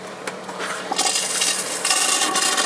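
Water rushes and drains from an Airstream B190 RV toilet during winterizing, a continuous splashing gush that swells louder partway through and stays fairly close, with no talking over it.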